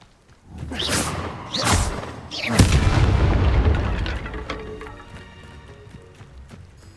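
A Confringo explosive spell from the video game Hogwarts Legacy goes off as a series of deep booming blasts, two short thumps followed by a larger, longer rumbling explosion that fades out.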